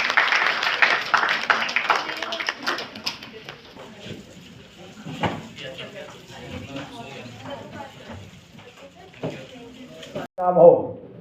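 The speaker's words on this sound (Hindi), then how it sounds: "तालियों की गड़गड़ाहट होती रहनी चाहिए।" Applause at a women's achievement award ceremony in a hall on Lodhi Road, with bursts of clapping that rise and fall under a speaking voice and then swell again near the end.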